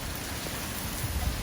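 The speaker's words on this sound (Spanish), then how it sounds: "otra vez tenemos la lluvia acá" Steady rain falls outdoors around a home cooking setup with a campfire, a continuous dense hiss with low rumbling patter, fairly loud and unbroken with no talking.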